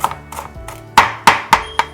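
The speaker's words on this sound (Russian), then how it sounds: "Зелень, конечно же, нарезаем мелко." A knife chops fresh dill and parsley finely on a board in crisp, distinct strokes, a few softer ones first and then four louder, evenly spaced cuts, close up and alone.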